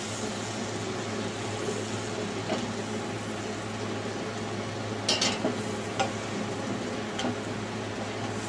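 Butter and flour roux cooking in a pan under steady stirring, a soft continuous sizzle with a low hum behind it and a few sharper clicks of the utensil.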